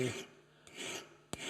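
Fine file rasping on steel while shaping the inside of a chair devil blade, in short back-and-forth strokes: a brief pass, a longer rasp and a quick final scrape, close and quiet with no talk.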